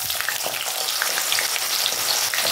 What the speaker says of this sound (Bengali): আলু আর গাজরটা আমি প্রথমে ভেজে নেব